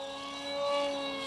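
A Modster Easy Trainer 1280 RC model airplane motor whines steadily in flight, a tonal electric hum that swells slightly midway, heard alone.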